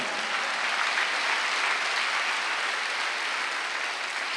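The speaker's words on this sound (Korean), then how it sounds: "빨리 박수하세요" A congregation at a Wednesday worship service at Jesus Centered Church claps together in steady, dense applause that fills the room at an even level throughout, with no voices standing out.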